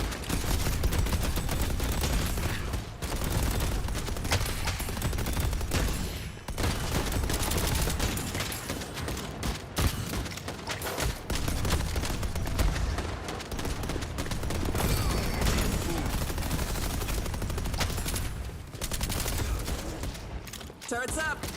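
Rapid turret gunfire in a video game, a dense continuous barrage of loud automatic shots with brief gaps, filling the whole stretch.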